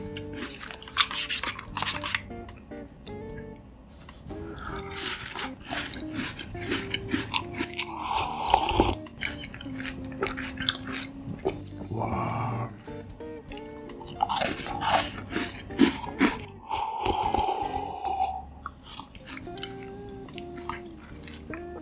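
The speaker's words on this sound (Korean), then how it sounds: "다음 밀크 쿠키 먹어볼게요." Crunchy chewing and biting on a milk cookie, close and loud, with repeated crisp crunches and softer mouth sounds throughout, no talking.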